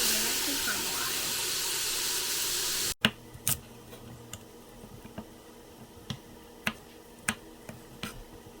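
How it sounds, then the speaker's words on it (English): Onions and turmeric sauté in butter in a pan, first a dense steady sizzling hiss, then after a sharp cut a quieter stretch of scattered pops and crackles. "I'm going to saute it up with onions and turmeric and caramelize"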